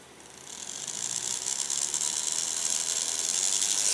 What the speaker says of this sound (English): we're going to use the remote again to control the motor